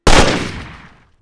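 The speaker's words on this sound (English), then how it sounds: "I made the night end with a gunshot." A single sharp gunshot cracks out loud and close, then decays into a long rumbling echo that fades away within a second.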